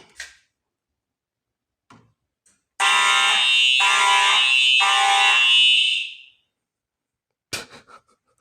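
A smoke detector's loud, piercing electronic alarm blares for about three seconds with a pulsing rhythm, set apart by quiet clicks and handling noises before and after.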